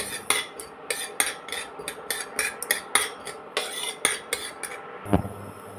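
Black mustard seeds, cumin seeds and a dried chilli fry in a pan while being stirred, giving a close, steady run of metallic spoon clatters and scrapes, with a louder knock near the end.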